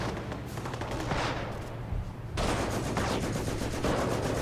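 Sustained battlefield gunfire in the strategy game Company of Heroes, Europe at War mod: steady machine-gun and rifle fire at close range that grows louder and denser partway through.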